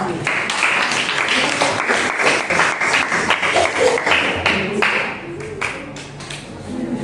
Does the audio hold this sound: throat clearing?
no